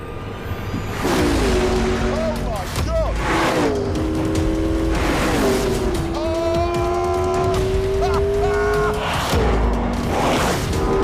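McLaren P1 hypercar accelerating hard, engine pitch rising through successive gears with brief drops at each shift, loud and close, sustained over several seconds.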